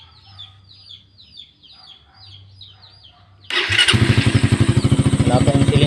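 A motorcycle fitted with a Keihin 28mm carburetor starts up abruptly and runs loudly with a fast, steady pulsing idle, after a few seconds of quiet rooster and chicken calls in the background.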